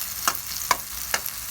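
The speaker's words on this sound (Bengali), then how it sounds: "তো আমি এখানে একটু পেঁয়াজটা একটু ভেজে নিচ্ছি।" Red onions for egg korma fry in a pan with a soft steady sizzle, broken by three sharp, evenly spaced clinks or scrapes of a spatula, close up and with no voices.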